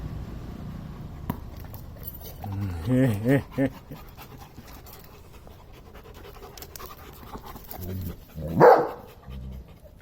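A dog whines in high, wavering bursts and pants between them, eager to play, heard fairly close amid low background noise with a second, louder whimper later on.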